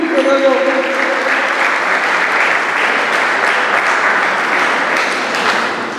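A crowd claps steadily and loudly, a dense wash of applause that holds without pause and fades slightly at the end.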